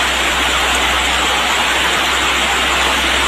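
Heavy rain pours down in a dense, unbroken hiss, loud and close, with a steady low hum underneath and no voices.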